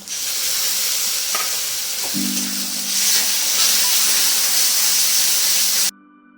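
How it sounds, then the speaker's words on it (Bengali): Tomato paste fries and sizzles in oil for ghugni, a steady close hiss broken by a few scraping stirs, before it cuts off abruptly near the end. "টমেটোটা এইভাবে কষে নেবো তেল ছেড়ে এসেছে"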